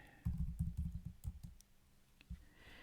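Fingers type on a computer keyboard in quick bursts of close, crisp key clicks, a rapid run first, then a few scattered taps with short pauses between.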